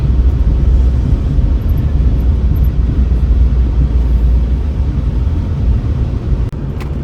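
A Jaguar XJ8 driving down back streets, its engine and road noise forming a loud, steady low rumble from inside the car that continues with little change.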